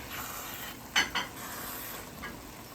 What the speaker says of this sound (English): So the greens is still frying.